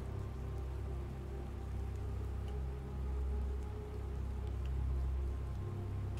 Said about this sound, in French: j'ai un bruit de pluie mais il pleut pas dans le jeu.